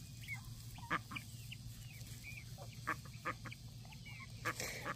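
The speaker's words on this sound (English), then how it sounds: "Make room, duck coming through, duck coming through." A group of ducks quacks repeatedly in short, scattered calls, some overlapping, heard faint and at a middle distance over a steady low background hum.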